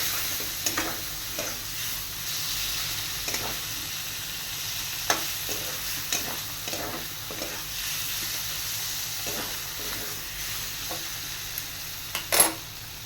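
Mushrooms and masala sizzle steadily in a pan, with repeated scraping and stirring strokes and a few metallic clinks of a spoon against the pan, all near and without speech.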